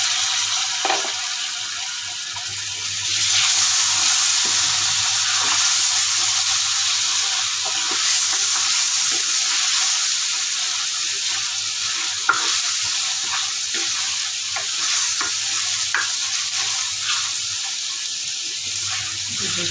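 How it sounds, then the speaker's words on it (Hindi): Mutton karahi cooking in a pan with a little water added, a continuous sizzling and bubbling hiss with occasional stirring scrapes, close and steady for about twenty seconds with no talking. "तो गोश्त को बॉईल करेंगे इसमें थोड़ा बहुत पानी लगेगा"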